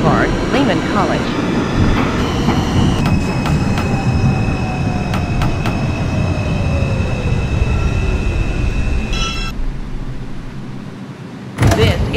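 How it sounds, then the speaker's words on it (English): An R142 New York subway train on the Manhattan-bound 4 line, simulated in OpenBVE, rumbles loudly along the track with a cab ride roar, a falling motor whine and brief tones before a short quieter moment. "This is a Manhattan-bound 4 train."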